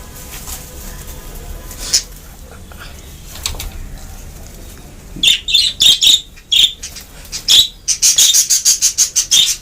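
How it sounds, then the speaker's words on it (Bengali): Pet budgies, about twenty in the flock, let out one at a time: wings flutter in short bursts, then a rapid run of close, shrill chirps grows dense and loud. "দেখুন একটা একটা করে পাখি ছাড়ছি"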